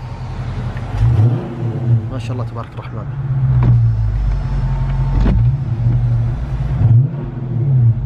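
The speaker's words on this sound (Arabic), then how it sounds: "خلينا نسمع صوت المحرك" A 2018 Dodge Charger Scat Pack's engine revs in a series of throaty pulls and settles between them, loud and close, while someone speaks briefly over it.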